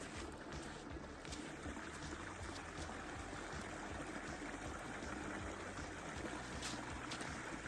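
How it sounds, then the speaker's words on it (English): Steady rushing trickle of a small babbling brook on a Newfoundland beach, continuous broadband water noise, close and moderately quiet with no talking. "I'm going to wash it in that babbling brook there next to me"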